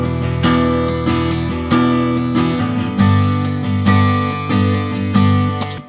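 Electric guitar played through a stereo widening plugin set to 100, giving a normal phase-corrected stereo signal from two microphones. Strummed chords ring with a fresh attack about every second, loud and steady, with no talking.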